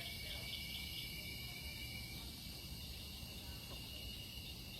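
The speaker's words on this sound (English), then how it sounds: "There's frogs and crickets out there." Crickets and frogs call at night near a pond, heard from a porch swing: a constant high insect trill with faint chirps and croaks underneath, steady and distant.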